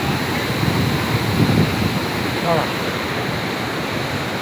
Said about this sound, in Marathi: पाणी आले, भरपूर असं पाणी आले